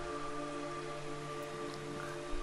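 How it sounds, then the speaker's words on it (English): Rain falling in the video game Metal Gear Solid 3, a soft steady patter of drops on surfaces with a low background hum, faint and continuous. "It's raining blood."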